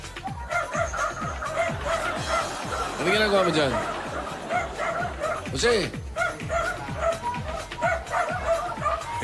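A dog barks and yips repeatedly in a quick, steady rhythm close by, while people talk over it throughout.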